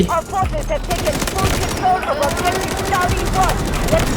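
Rapid SMG bursts crackle in Delta Force, dense sustained automatic fire close by with repeated short volleys layered over busy game sounds.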